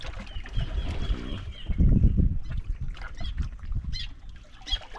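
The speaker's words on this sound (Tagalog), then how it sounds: "Ingay yung ibon ah." Birds call noisily from trees near the water during a fishing outing, with a burst of harmonic cries early on and scattered sharp chirps that keep returning over low background rumble.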